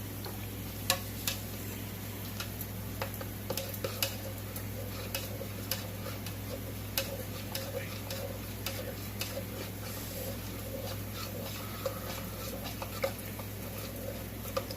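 A spoon stirs melted candle wax with dye in a container, making faint, scattered ticks and clicks over a low steady hum, with no talking.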